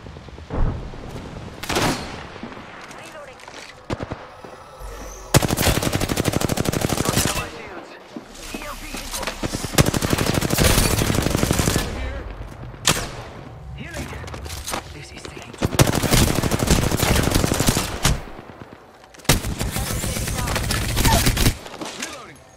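Automatic weapon fire from an LMG in the video game Apex Legends, several long sustained bursts of rapid shots separated by short pauses, loud and close, with a voice speaking in between.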